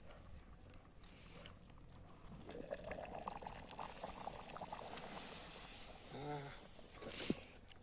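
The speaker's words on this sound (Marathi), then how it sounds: "आपल्या चिकन मध्ये आपण पाणी ऍड करतोय" Spiced water pours steadily into a pot of chicken, a splashing, rushing stream that builds after a quiet start and ends with a few drips.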